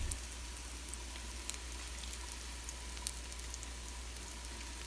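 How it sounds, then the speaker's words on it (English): Tofu for agedashi tofu frying in a hot pan, a soft, even sizzle with scattered tiny pops, steady and fairly quiet with no one talking. "Tofu is sizzling well now and beginning to get warm"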